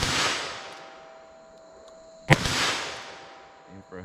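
A single sharp .22 Magnum gunshot from Remington Premier Rimfire ammunition cracks out midway, preceded by a fading earlier report and broadband outdoor hiss, with brief clicking near the end.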